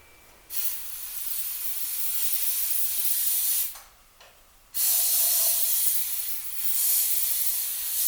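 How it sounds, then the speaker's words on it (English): Starting fluid sprayed into the carburetor of a 1977 Corvette barn find, a loud close aerosol hiss in two long bursts separated by a short pause, then continuing. "I'm going to spray in the carburetor"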